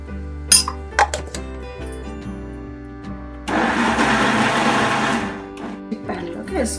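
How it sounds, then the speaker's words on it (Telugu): Mixer grinder coarsely grinding cooked carrots, a loud whirring run of about two seconds in the middle, preceded by clicks and handling noises over a steady background hum, with faint speech. "దీన్ని ఒక మిక్సీ గిన్నెలోకి తీసుకొని కొంచెం బరగ్గా మిక్సీ పట్టుకోవాలి."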